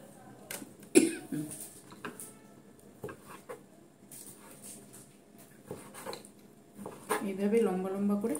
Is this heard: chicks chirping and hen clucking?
no